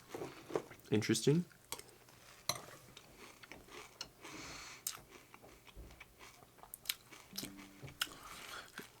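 Bites of Coco Frosted Mini-Wheats chocolate cereal: a crisp crunch near the start, then quieter, irregular chewing and small crackles close to the mouth, soft overall with faint background noise.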